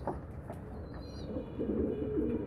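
Pigeons in a home loft on a winter day, cooing in soft repeated low calls, fairly close, with a steady rumble of background noise and a slightly louder burst of cooing toward the end.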